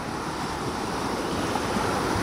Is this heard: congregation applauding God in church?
no